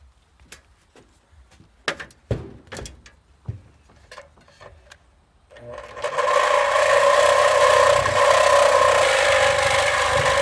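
Bolts are cut off on the inside of a folding sawhorse with a power tool. A few sharp clicks and taps come first, then a loud, steady, whining cutting noise starts midway and holds to the end.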